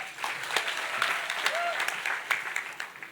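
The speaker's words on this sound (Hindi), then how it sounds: "जोरदार ताली बजा सकते हैं?" Youth camp audience clapping: a few seconds of dense, brisk applause from a crowded room, close and moderately loud with sharp individual claps standing out.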